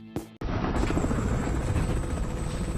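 A helicopter in flight in the film Edge of Tomorrow, heard from inside the cabin after a short sharp burst: a loud, steady rotor roar with fast chopping pulses and a thin whine above it.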